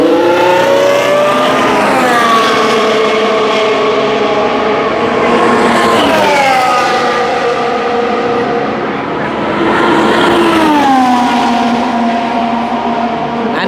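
Formula 1 cars scream past during free practice at the Spanish Grand Prix, several loud high-revving passes each sweeping down in pitch as the cars go by, with the trackside roar continuing between them.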